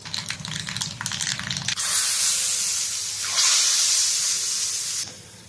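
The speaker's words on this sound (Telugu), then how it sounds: "సో ఇదండి తాలింపు అయితే వేసేసుకున్నాము" A tempering of cumin, mustard seeds, dried red chillies, curry leaves, asafoetida and a little turmeric in hot oil for Telangana pachi pulusu bursts into a loud, sustained sizzling hiss after a brief crackle, then cuts off abruptly.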